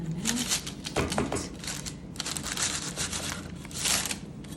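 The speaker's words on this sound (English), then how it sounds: "Take a trusty knife, and you cut in the middle." A knife cuts through regular dinner rolls in a kitchen, giving close, crackly crunching and crinkling bursts that come and go for several seconds.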